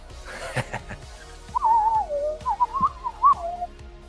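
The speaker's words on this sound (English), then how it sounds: "Come on, Randy, play that whistle." A lone whistle plays a short wavering tune over a rhythmic backing beat, loud and close, with a brief chuckle just before it starts.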